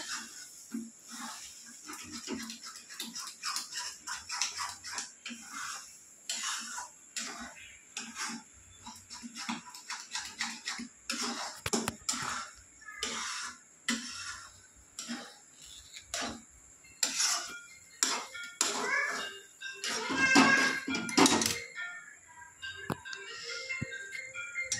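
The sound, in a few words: wok (kadhai) moving and rattling while cooking egg bhurji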